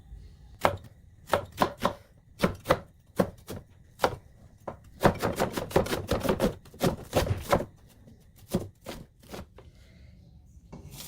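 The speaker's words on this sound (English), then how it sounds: "I'm going to go ahead and dice the onions and the garlic" A knife dices onions and garlic on a cutting board for a homemade marinara sauce, with crisp, close chops coming in irregular bursts, some quick runs of rapid strokes between sparser single cuts.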